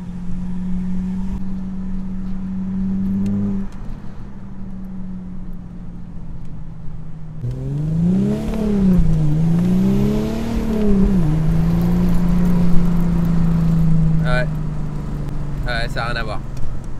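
A 3.0 TDI diesel car with its intake flap removed and a larger OEM intake pipe revs and accelerates, the engine drone rising and falling in pitch through several pulls, with people talking over it.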